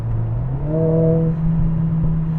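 A Mercedes CLA45 with a new aftermarket exhaust drives in race mode on a dual carriageway, heard from the cabin as a steady low engine drone that rises slightly in pitch.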